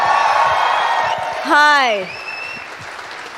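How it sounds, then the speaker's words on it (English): Audience at a live talk session greets an arriving guest with a brief burst of applause and cheering, topped by a rising whoop, then fades under a close voice saying a greeting. "Can we have a huge round of applause?"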